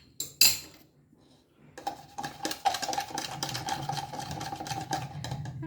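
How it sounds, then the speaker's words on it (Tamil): A metal spoon stirs sugar into lemon soda in a glass, opening with a sharp clink and then settling into continuous rapid clinking and scraping against the sides, close up. "இப்போ அந்த சர்க்கரையை நல்லா மிக்ஸ் பண்ணிவிடுங்க ஸ்பூனால்."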